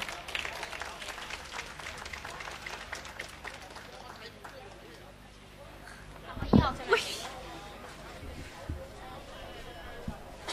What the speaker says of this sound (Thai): ขอเสียงปรบมือต้อนรับน้องๆ จากประกายไฟการละ